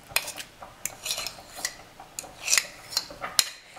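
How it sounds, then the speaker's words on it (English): A fork clicks and scrapes repeatedly against a bowl as it works softened cream cheese into a Tex-Mex lasagna mixture, making a close, irregular series of sharp metallic taps. "take a fork and just go over it a little bit and then add that to your mixture"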